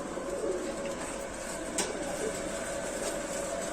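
Red-headed pigeons coo faintly under a steady background hiss, with a low, continuous murmur of calls and no voices.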